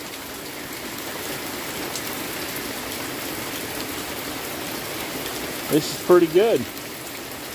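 A mountainside river rushes in a constant broad wash of water, close and steady throughout, with someone speaking briefly near the end.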